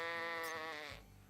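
A sheep lets out a single drawn-out bleat, loud and close, with a wavering tone that breaks off abruptly near the end, leaving a quieter low background.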